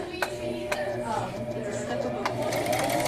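A sewing machine runs steadily and close, its rapid mechanical needle rhythm humming throughout with a few sharper clicks, while an instructor talks over it.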